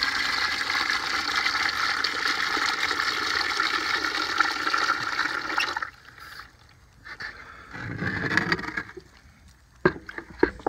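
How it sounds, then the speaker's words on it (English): Water runs from a garden spigot in a steady, fairly loud stream for several seconds, then stops, followed by a shorter splash and a few clunks. "Get another little batch of water from the spigot."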